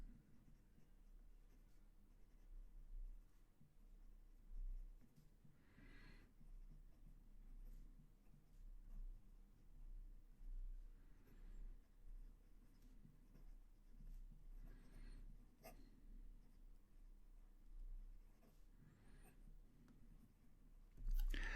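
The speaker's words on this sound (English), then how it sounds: "Just giving the pen another dip and we'll do some writing." A dip pen scratches faintly across paper in soft, irregular strokes, very quiet and close, with occasional light taps and rustles.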